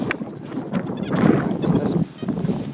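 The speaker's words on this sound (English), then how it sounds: "It's so windy out here." Gusty wind buffets the microphone outdoors at a metal-detecting dig, a steady broadband rush that swells and dips, with faint talk mixed in.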